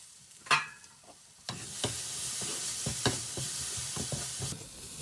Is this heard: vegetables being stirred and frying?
yes